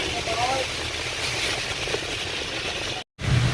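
A car drives through heavy rain and thick fog, with rain drumming as a dense, steady roar over a low engine hum. The sound cuts out briefly near the end, then returns.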